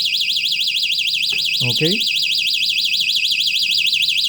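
A loud electronic alarm triggered by magnetic switch contacts closing sounds as a steady warbling siren throughout, with a short spoken word briefly heard underneath.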